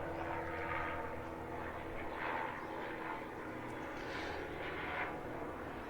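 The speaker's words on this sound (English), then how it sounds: "Here comes the chopper" A helicopter passes overhead, its steady low rotor-and-engine roar rising and falling in broad swells for several seconds, moderately distant and without any speech.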